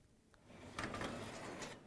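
A GE oven door lifted straight up off its hinges, a faint soft clunk and brief metallic rattle followed by light scraping, heard close in a quiet room.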